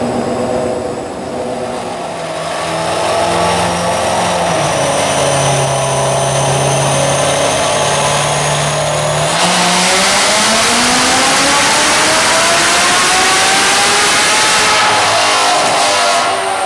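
Supercharged C7 Corvette Z06 V8 on a dyno, idling steadily then revving hard with a rising, loud supercharger whine and engine roar climbing through the gears, no talk.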